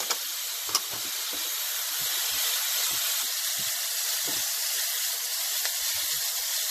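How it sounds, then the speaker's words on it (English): Minced meat stir-frying on high heat for a shepherd's pie, a steady loud hiss and sizzle that never lets up, broken by a few faint scrapes and clinks from stirring. "stir frying the meat on high heat for at least 4 to 5 minutes"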